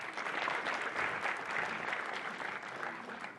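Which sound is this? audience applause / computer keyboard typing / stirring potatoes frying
audience applause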